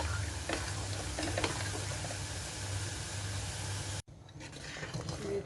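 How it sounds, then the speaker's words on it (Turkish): A thick red pepper paste bubbles and sputters steadily in a pot, a constant soft crackling hiss close up that briefly cuts out near the end. "Biber salçamız kaynıyor."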